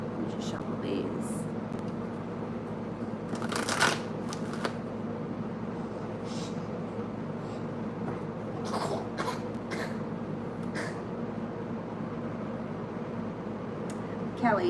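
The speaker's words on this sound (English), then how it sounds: "Let me just shuffle these." Tarot cards shuffled by hand in a quiet room, soft papery riffles and slaps coming in short bursts over a steady low background hum.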